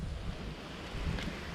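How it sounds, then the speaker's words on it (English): Steady outdoor wind gusting across the microphone in a Southwest Florida urban garden among pigeon pea plants, a continuous low rumble that swells slightly near the end, with no talking. "Today it's pretty windy"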